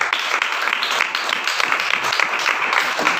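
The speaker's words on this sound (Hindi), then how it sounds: "जोरदार तालियां" A church congregation at a Sunday service breaks into dense applause, many hands clapping together loudly and continuously, close and filling the room.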